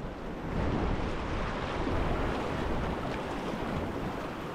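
Steady broadband rush of churning whitewater rapids on the Skykomish River in western Washington, with gusty wind noise across the microphone; no voices.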